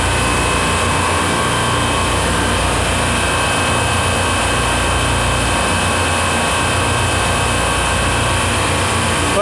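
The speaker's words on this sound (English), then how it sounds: "it is an original compressor" An original, worn compressor runs steadily on a supermarket refrigeration rack, giving a loud, continuous mechanical drone with a broad hiss and no break throughout.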